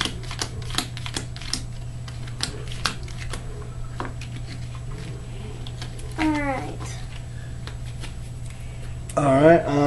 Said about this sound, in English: I'm gonna shuffle these up real quick for next time.